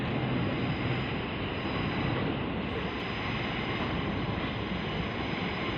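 A Southeastern train pulls into London Bridge station with a steady, broad rumbling roar of wheels and rails that holds at an even moderate level throughout, with no voices.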